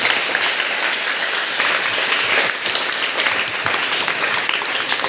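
An audience at a Hindi-language event claps loudly and continuously, a dense, even roar of applause throughout with no talk.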